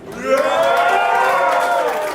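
A live crowd at the Burnt City Brawl battle event in Melbourne roars and cheers, a loud, continuous swell of whooping voices heard close.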